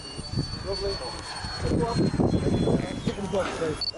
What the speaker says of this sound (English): Kev, that sounds like a jet.